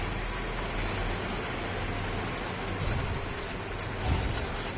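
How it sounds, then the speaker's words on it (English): Dense, steady rain falls on a moon in a space video game, a loud unbroken hiss across the whole clip, with faint low rumbles swelling now and then beneath it and no talking. "It appears to be raining, too."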